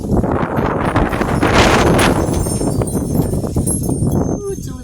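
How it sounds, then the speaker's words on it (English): Gusty wind buffets the microphone outdoors in a steady broadband roar that swells and eases over a few seconds, with no voices. "it's a little windy"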